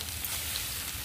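Chopped onions and tomatoes sizzle steadily in a hot pan, a soft continuous crackle with no pauses and no voices.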